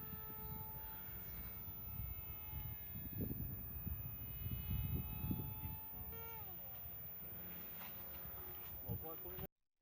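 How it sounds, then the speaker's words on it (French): A radio-controlled model airplane flies low with a steady high-pitched buzzing motor whine that shifts pitch as it passes close by, over wind and outdoor background noise. "Il faut déjà bien manipuler la radiocommande pour arriver à faire voler l'avion aussi bas en rasemote."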